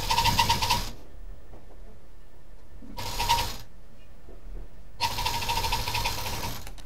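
A sewing machine stitches a three-pocket bag with a zip and lining in three bursts of fast rattling whir separated by quiet pauses, close and clear.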